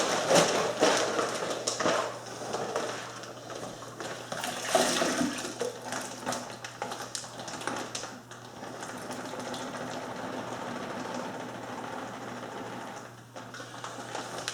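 A wine kit juice bag is squeezed and wrung out, giving a steady wet, sloshing, splashing rush of liquid that runs close and fairly loud for a long stretch, then eases slightly.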